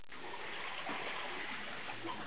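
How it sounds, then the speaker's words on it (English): Seawater sloshes and hisses among broken coral inside a sea cave, a steady close washing and trickling wash with no distinct waves, fairly quiet. "and that is water, you can hear it"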